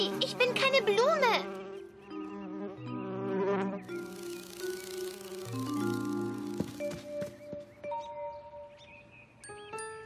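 A cartoon bee from the German-dubbed Caillou buzzes over bright, tinkling musical tones and chirps, with the buzz rising and falling in a cheerful cartoon soundtrack.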